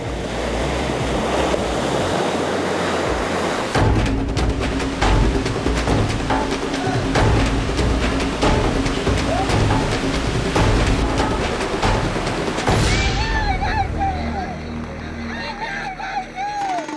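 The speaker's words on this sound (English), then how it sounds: "Perfekti sērfa viļņi" Ocean surf breaks along the Sri Lankan coast in a loud, continuous roar of crashing waves. Gusts of wind buffet the microphone, and the wash surges and eases throughout.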